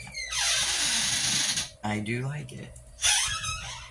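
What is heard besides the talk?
door hinge squeaking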